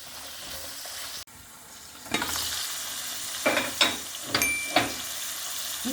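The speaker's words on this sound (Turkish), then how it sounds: "Kapağını kapatıp kahve ocağında bir 5 dakika sarartıyorum." Fresh broad beans with dill stems sauté in a covered pot on the stove, a soft steady sizzle broken by a sharp lid clunk and several short bursts of stirring and frying, close, with no voices.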